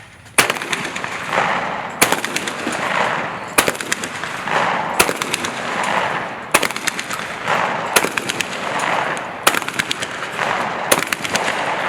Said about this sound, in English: We're going to do a high house and a low house and do a few warm-up shots.